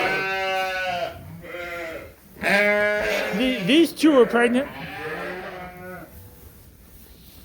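Pregnant sheep bleat in a barn, several long quavering calls in close succession, loud and near, with a person talking between and over them.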